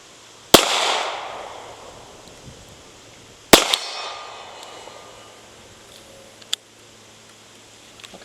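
Two sharp handgun shots at a shooting range, roughly three seconds apart, each a loud crack followed by a decaying echo, with a fainter metallic click afterward; no talking.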